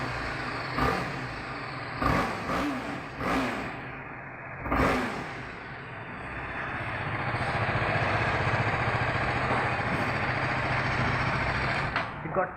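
A BMW G310R motorcycle with its 313cc single-cylinder engine blips its exhaust in several short revs, then settles into a steady, throaty rumble, close and fairly loud with no talking.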